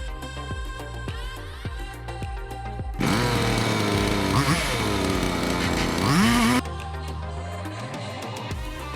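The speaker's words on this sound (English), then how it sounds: "After lowering the sawmill and getting it perfectly lined up, I just repeated the cutting process." A sawmill blade cuts through a log for a floating mantel in one loud, sustained burst of several seconds, set between quieter stretches of idling engine drone.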